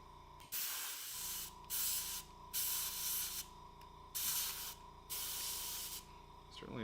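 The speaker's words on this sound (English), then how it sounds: "I've got my airbrush. I'm gonna get a little bit of dye." An airbrush sprays dye onto a leather Halloween mask in a workshop, giving four or five steady hissing bursts of about a second each, separated by short pauses, close and fairly loud over a low background hum.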